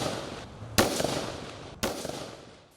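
Gunfire in a shootout between rival gangs at Morro dos Macacos, Vila Isabel, Rio de Janeiro, two sharp reports about a second apart with echoing tails, heard from a distance over a steady background hiss.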